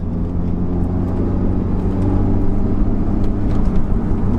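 An Audi S1 engine drones loud and steady from inside the car on the road, with a deep, continuous hum that builds gradually as it accelerates, with no talking over it.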